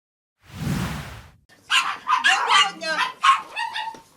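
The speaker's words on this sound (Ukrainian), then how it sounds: "Кожна з 30 собак Ірини має прізвисько" A brief rush of noise, then a dog barks and yips repeatedly in quick bursts close by, with some whimpering tones mixed in.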